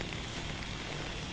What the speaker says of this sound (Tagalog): babasa na naman tayo ng ulan